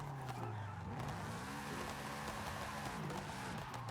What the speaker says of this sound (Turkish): Ben şurada driftimize başlayalım kanki.